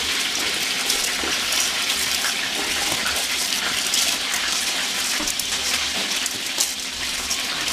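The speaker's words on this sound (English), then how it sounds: "So we're gonna add in the rice. See it there? I'm just gonna pour that in." Dry rice pours steadily into a cooking pot for rice and peas, making a continuous bright hissing patter throughout with no talking.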